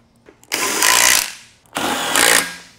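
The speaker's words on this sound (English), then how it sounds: "with your 14mm socket, go ahead and get it all the way up in" A power driver with a 14mm socket runs a bolt home while a glute and ham developer is assembled, two sustained whirring bursts of about a second each separated by a short pause, close and fairly loud.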